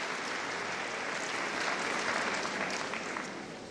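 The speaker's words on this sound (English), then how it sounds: "Big round of applause for the most numerous today." Sustained applause from a large crowd at the Crufts dog show, steady and dense throughout before easing slightly at the end.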